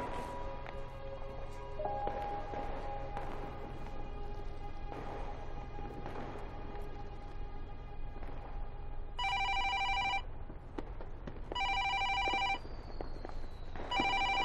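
A telephone rings unanswered: after a stretch of quiet ambient room noise, three loud electronic ring bursts of about one second each come in a regular rhythm, with nothing picking up.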